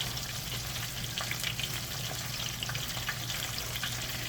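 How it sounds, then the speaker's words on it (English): Macaroni and cheese being stirred in a pot to break up remaining chunks, a steady wet churning and scraping with a low hum underneath, with no voices. "Stir around really good, for them to break up"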